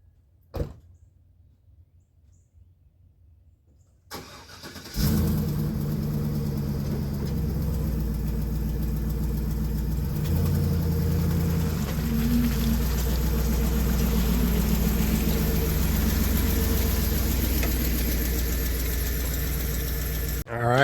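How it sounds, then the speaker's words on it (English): A truck engine starts after a few seconds of near silence and then runs loud and steady close by, a heavy low drone with slight shifts in pitch as it works to pull out of mud. "Let's get this truck out of the mud somewhere nice and pretty."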